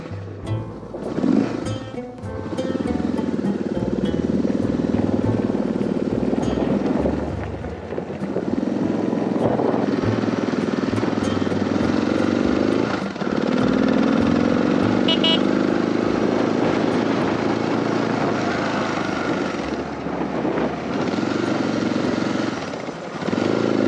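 A motorcycle on a road trip toward Quemado drones steadily on the road, a loud, continuous engine roar with wind rush that dips briefly as it shifts and then carries on.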